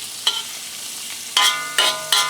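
Hot oil crackles steadily while prawns fry and are stirred, with several louder scraping bursts from a utensil in the pan.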